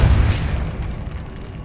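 The Depulso spell cast in Hogwarts Legacy lets out a single heavy, booming burst that hits loud at once and then rumbles down over a second or so.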